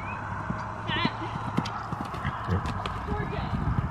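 A horse's hooves clip-clop in a quick, steady rhythm close by, with a brief whinny and people talking over the sound.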